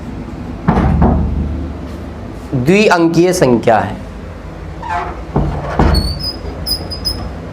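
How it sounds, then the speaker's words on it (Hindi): A gate door creaks and squeaks as the wind moves it, with drawn-out wavering squeals in the middle, then fainter creaks and a few high squeaks later, heard close behind someone speaking Hindi during a maths lesson. "थोड़ा क्या हवा चल रही है जो गेट दरवाजा आवाज कर रहा है।"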